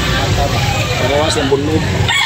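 A rooster crows amid the bustle of a chicken sale, its call rising partway through under near, continuous talking from sellers and buyers.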